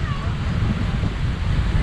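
Gentle ocean waves wash steadily onto a beach in a sheltered bay near Los Angeles, a continuous soft surf hiss with wind buffeting the microphone and faint voices in the background.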